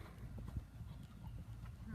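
A horse's hooves thud in a rhythmic canter over footing during a riding exercise around a placement rail, steady moderate beats under a speaking voice.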